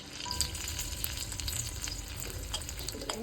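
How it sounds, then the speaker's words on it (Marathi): Garlic cloves and ginger pieces fry in a pan with a steady, crackling sizzle and occasional spatula scrapes, close-up and even in level for the whole stretch. "सगळ्यात आधी मी लसणाच्या पाकळ्या आणि आल्याचे तुकडे टाकले ते थोडेसे असे फ्राय करून घ्यायचे"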